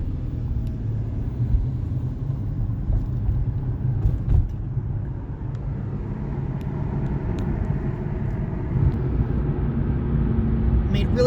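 A car driving through the streets of Mishawaka, Indiana, heard from inside as a steady low engine and road rumble with occasional creaks and small knocks.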